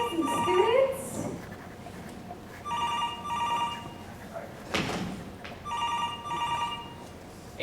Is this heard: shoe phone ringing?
yes